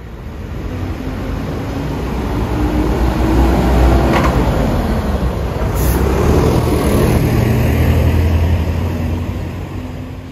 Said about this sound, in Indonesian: Hampir setiap menit bis berlalu lalang di terminal ini.